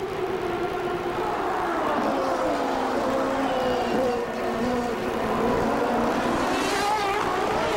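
CART Indy race cars roar around the 1996 Vancouver street circuit in a continuous loud engine drone with shifting pitch as cars pass, while a commentator talks over the racing.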